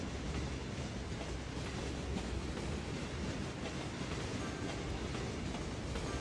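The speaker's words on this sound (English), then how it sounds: "hopefully at some point, there we go, our first little tram." Tram in a city-building game rolling along rails, a quiet, steady wash of rail noise with faint rhythmic clatter throughout.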